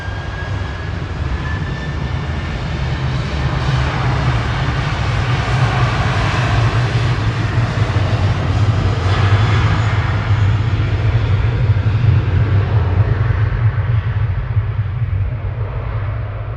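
A Jet2 Boeing 737-800 departs Manchester Airport, its engines producing a steady, loud, low roar that holds throughout with a broad rushing hiss and no talk.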